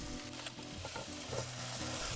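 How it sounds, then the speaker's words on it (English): Onions and carrots sizzle and crackle in a tablespoon of cooking oil in a hot pan, a soft steady frying hiss with occasional stirring noises and a faint hum underneath. "fry off the onion and carrots in a tablespoon of cooking oil"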